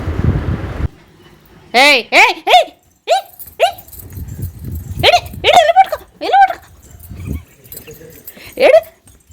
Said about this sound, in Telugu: ఆడు మొరగటం ఆడు చిన్న చిన్నగా కరవటం అన్నది మంచి క్యూట్గా ఉంటుంది